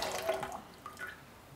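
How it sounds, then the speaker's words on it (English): Water tipped from a pan or plate back into a cup, a brief soft splashing pour at close range, quiet and over within a second or so. "you dump the water from the pan or plate"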